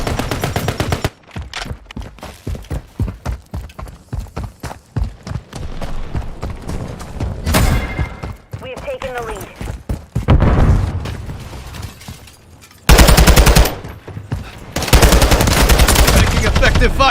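Dense bursts of rapid gunfire and machine-gun fire in a video game, loud and close, with sharp rattling volleys between quieter stretches and a few near-silent gaps.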